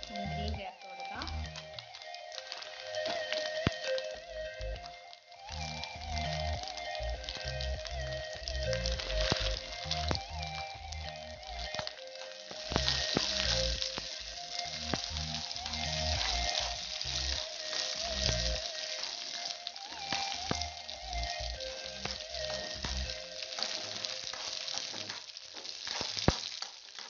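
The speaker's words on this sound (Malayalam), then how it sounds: "തേങ്ങാക്കൊത്തെല്ലാം മൂത്ത് വരുന്നുണ്ട്." Coconut pieces fry in a pan for kadala parippu payasam, a Kerala lentil pudding. A steady close sizzle runs throughout under a voice that keeps talking.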